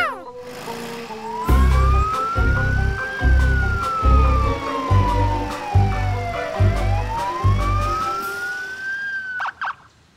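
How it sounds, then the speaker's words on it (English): An animated cartoon police car siren wails, its pitch sweeping slowly up, down and up again, loud over a steady, pulsing musical beat, with a brief clatter near the end. "Morphle, police car, take you to jail!"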